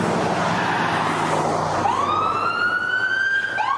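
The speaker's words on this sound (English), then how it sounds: "Right in front of a speeding ambulance." An ambulance siren rises and sweeps past at speed in a city street crossing, its wailing tone climbing in pitch over steady traffic rumble and growing loud and close.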